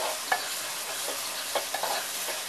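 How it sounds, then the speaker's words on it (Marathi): A fresh coconut and coriander paste is stirred in a frying pan for chicken leg piece masala, giving a steady close sizzle broken by several sharp scrapes and clinks of the spoon against the pan. "पेस्ट। छान मिक्स करून घेऊया"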